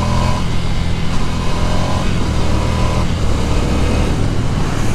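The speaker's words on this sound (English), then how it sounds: "You guys know I love shifting through the gears unnecessarily, which is what I just did there." A 2019 Ducati Scrambler Cafe Racer Edition motorcycle riding on the road, its engine droning loud and steady under heavy wind rush, with the pitch dropping and rising as it shifts gears.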